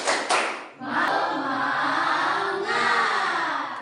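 Students in a classroom clap together in steady unison, a dense, loud burst of hand claps that continues after a brief pause, with some voices mixed in.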